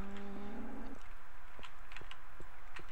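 A cow in the Minecraft video game gives a short, close moo at the start, followed by a few soft clicking taps from the game.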